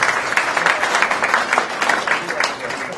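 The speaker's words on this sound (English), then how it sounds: "So can I give yourselves a big round of applause just to say thank you to you guys" Audience in a community gathering applauding, a dense, steady round of clapping held at even loudness throughout, close and continuous with no talk over it.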